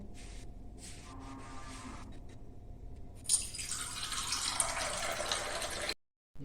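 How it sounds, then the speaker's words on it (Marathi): Water is poured in a steady stream, rising into a brighter splashing gush in the second half before stopping suddenly. "आणि त्याच्यावर पाणी ओतूयात"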